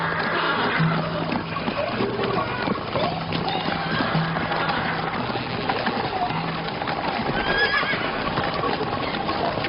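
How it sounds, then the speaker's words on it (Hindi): A horse whinnies and its hooves clip-clop over a steady, busy outdoor background with birds and scattered voices, in a period drama setting. "मेरा घोड़ा ले जाओ।"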